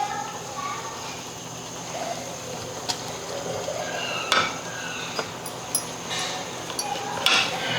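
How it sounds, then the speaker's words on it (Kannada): A spoon stirring tomato rasam in a metal pot, giving scattered clinks and scrapes against the vessel under steady background noise, close by, with a voice briefly audible. "ಈಗ ಇದು ಚಲೋ ಹೊತ್ತಿಗೆ ಮಿಕ್ಸ್ ಮಾಡ್ಕೊತೀನಿ ನೋಡಿರಿ"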